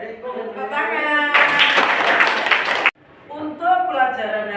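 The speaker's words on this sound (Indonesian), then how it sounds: "Tepuk tangan." Students in an Indonesian middle school classroom clap together in a brief burst of roughly a second and a half, set between stretches of a teacher speaking.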